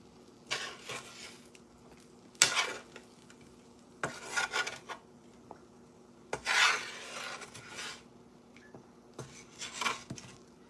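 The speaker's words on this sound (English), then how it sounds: "I shouldn't be using these metal tongs on here because it's a non-stick surface" Metal tongs scraping onion and pork scraps across a non-stick hibachi griddle, a series of short, raspy scrapes in irregular bursts with quiet gaps, close and fairly soft.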